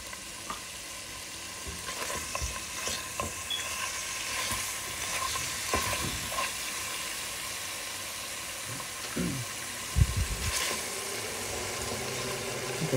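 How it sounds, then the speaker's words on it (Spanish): Blended tomato, onion and garlic frying in a pan, a steady loud sizzle with repeated scraping stirs and a heavier knock near the end, no voices. "Voy a ponerlo a freír, nada más un poquito, que agarre un poquito de colorcito"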